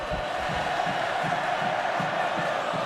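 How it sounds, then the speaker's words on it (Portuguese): Grêmio football supporters celebrating in a Brazilian stadium during the 2014 Brasileiro, a dense, steady crowd roar with shouts rising out of it, loud and continuous for the whole stretch. "É a torcida do Grêmio na comemoração"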